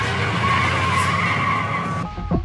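Hijacked car tearing away in a movie chase scene, its tires skidding and squealing loudly and steadily for about two seconds before cutting off abruptly into a rumble.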